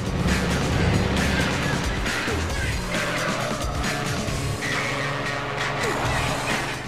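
Race cars brake hard and skid through a corner in Gran Turismo 3: A-Spec on PS3, with loud, continuous engine roar and tire squeal layered with mechanical clatter throughout.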